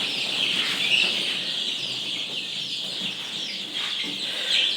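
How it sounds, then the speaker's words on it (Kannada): A crowd of ten-day-old native chicks peep continuously in an enclosed brooding room, a dense, high, overlapping chorus at moderate volume with no talking. "ಈಗ 200 ಮರಿ ಬ್ರೂಡಿಂಗ್ ಮಾಡ್ತಾಯಿದ್ದೀನಿ."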